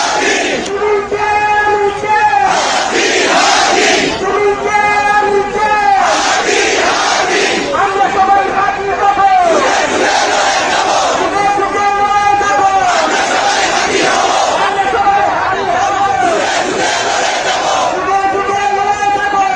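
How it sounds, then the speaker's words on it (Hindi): A large protest crowd at Shahbag in Dhaka, Bangladesh, chanting rhythmic slogans in unison, loud and sustained with repeated call-and-response swells throughout. "दिन में शाहबाग में निकली भीड़, सुनिए देखिए।"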